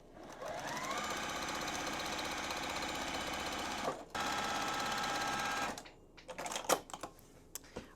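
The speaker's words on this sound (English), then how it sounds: "And then we're gonna sew them together using a quarter of an inch seam." A sewing machine stitching quilt fabric strips together with a quarter-inch seam, whirring in a steady fast rhythm for about five seconds with a short pause, then a few clicks and handling noises as it stops.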